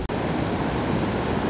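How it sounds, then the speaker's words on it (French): A small waterfall in a river tumbles steadily nearby, a loud continuous rushing roar with a broad, even wash of noise and no voices, cut only by one tiny dropout at the start. "Là, il y a une petite cascade."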